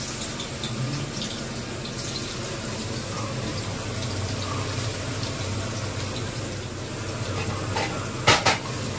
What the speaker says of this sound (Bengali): পেঁয়াজটা তো এখানে ভাজা বসিয়ে দিয়েছি।